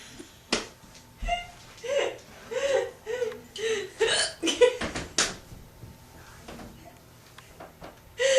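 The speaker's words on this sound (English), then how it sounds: "when you laugh, you would get the hiccups" A child's repeated hiccups, with about a dozen short, sharp gulping catches at an irregular, fairly steady pace, close to the microphone, mixed with soft breathy laughs.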